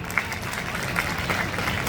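A large community gathering of the Ghadiya Koli Samaj in Surat claps loudly: a thick, continuous wash of many hands with a few sharper individual claps standing out, steady for the full two seconds.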